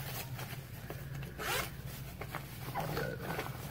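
The zipper on a chest wader pocket pulled open in a few quick ripping strokes, close and clear, with light rubbing of the fabric in between and a low steady hum behind.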